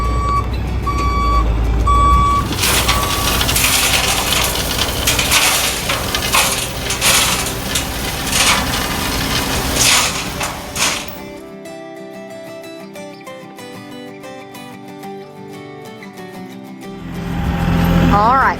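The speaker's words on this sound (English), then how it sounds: "We're having another load of gravel delivered today." A gravel delivery truck on a farm backs up with steady reversing beeps over engine rumble and clattering, crunching gravel, then drops away to quieter tones before the noise swells again near the end.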